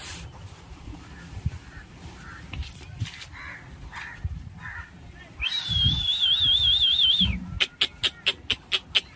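A person imitating bird calls to summon pigeons, making a warbling whistle followed by a rapid series of short sharp whistles, with scattered soft clicks and breathy noises before.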